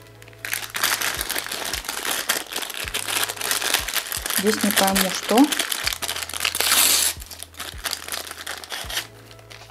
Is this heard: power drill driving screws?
no